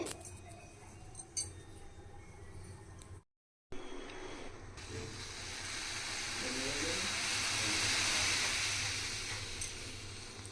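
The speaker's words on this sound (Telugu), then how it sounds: "ఇదిగోండి పాలు పొంగినవి ఇలా మూడు సార్లు పొంగించాలి" Milk boiling over in a pot on a new stove at high flame: a broad, steady hiss that swells and builds over several seconds, preceded by a few faint clinks and low kitchen background.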